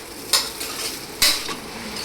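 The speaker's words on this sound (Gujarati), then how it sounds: "તો આપણે સુરતી ખમણ ઢોકળા વઘારેલા." Tempered Surti khaman dhokla being stirred in a pan, giving two sharp scraping, sizzling strokes about a second apart over a steady low frying hiss, close and fairly quiet, with no talking.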